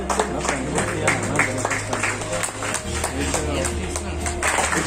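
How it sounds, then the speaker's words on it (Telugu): An audience at a World Book of Records award ceremony honouring artists claps in a dense, sustained burst of applause, with voices carrying over the crowd throughout. "కానీ గట్టిగా ఈ చప్పట్లు మాత్రం ఆగకూడదండి"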